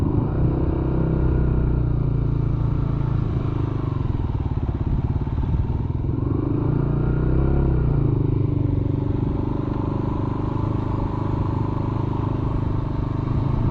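Motorcycle ridden at full steering lock while the rider stands on the pegs, its engine giving a steady, close, low rumble with slight rises and falls in throttle throughout.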